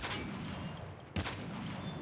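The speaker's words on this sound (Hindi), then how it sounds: "ये मूव करते करते मैंने इसमें गोलियां चलाई, ये भी फायरिंग कर रहा था" Gunfire in the mobile video game Call of Duty Mobile: a single sharp shot cracks out midway over a steady wash of in-game background noise.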